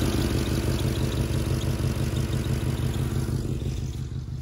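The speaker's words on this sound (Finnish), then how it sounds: "ääni on muuten ihan terve moottorille." A 330 hp V8 in a Hummer idles while warming up, a loud, steady, deep rumbling throb with even pulsing close by and no other sounds on top.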